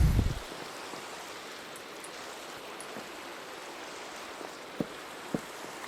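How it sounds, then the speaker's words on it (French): Rain falls steadily in the video game Minecraft, a soft even hiss that persists throughout, with a louder thump at the start and a couple of faint clicks later. "Là, il pleut."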